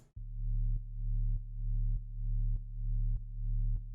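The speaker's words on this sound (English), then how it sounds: "This is essentially just a square wave" A buzzy square-wave synth bass note with a filter, low and sustained, the filtered tone re-triggering in a steady pulse roughly every half second. No voices.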